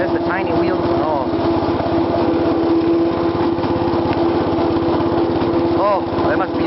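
A small old B80 tractor engine runs steadily after starting in hot weather, a continuous close, loud drone with a chugging mechanical rhythm and no break across the clip.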